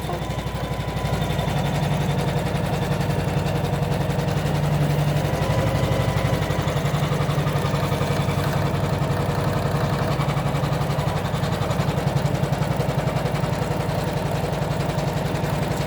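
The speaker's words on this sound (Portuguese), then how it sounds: "Agora, ele vai fazer a costura que vai prender os tecidos" A sewing machine stitches fabric in a steady, fast mechanical whir with a rapid regular needle rhythm, close and loud, running continuously without pause and with no voices.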